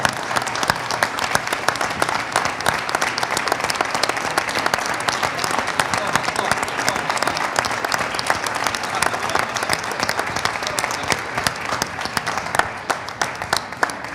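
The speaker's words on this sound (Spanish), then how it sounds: "vení Pablo y vení Pedro, que les hacemos un aplauso nosotros a ustedes" An audience at an architecture lecture applauds the organizers with thick, continuous clapping that holds for about fourteen seconds before thinning slightly at the end.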